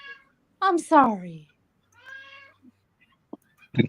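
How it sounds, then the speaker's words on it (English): A cat lets out a couple of loud, drawn-out meows close by, followed by a softer mewing cry and a few brief noises, with quiet gaps between. "Your cat heard about Slim Fast and it started going on a rant."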